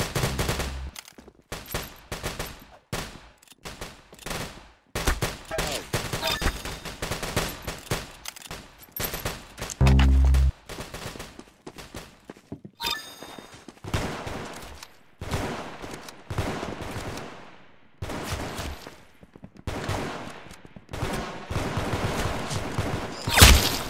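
Gunfire in the Roblox shooter Arsenal: rapid bursts and single shots crackle nearly nonstop, loud and close, with brief gaps between volleys and no talk.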